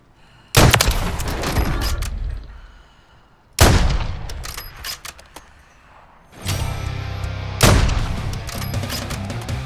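Gunfire from Call of Duty Warzone 2 gameplay arrives as three loud, close bursts of shots, each followed by a rumbling tail, with a sustained rattle of firing in between.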